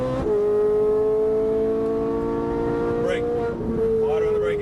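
Car engine on a Las Vegas race track, a loud steady drone rising slightly after an upshift and holding high revs, with a brief dip near the end; an instructor's voice speaks over it.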